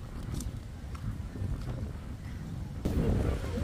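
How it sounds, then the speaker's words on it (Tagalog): Strong wind buffeting the microphone at a seaside fishing port, a steady low rumble throughout that grows louder and gustier near the end, with faint background activity. "Ang lakas ng hangin."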